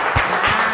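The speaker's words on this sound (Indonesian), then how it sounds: "Tepuk tangan buat kita semua" An elementary school class claps together in a short burst of applause, a brief dense patter of many hands in a classroom.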